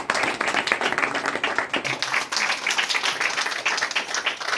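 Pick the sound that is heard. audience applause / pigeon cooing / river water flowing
audience applause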